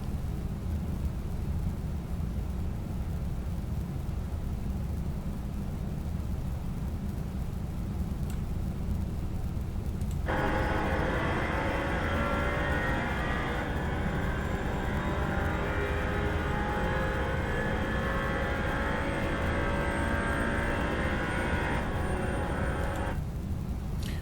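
A GT4 race car at full throttle around Monza in a racing game: a loud, continuous engine roar with no talk, turning brighter and more tonal halfway through as the revs climb and hold.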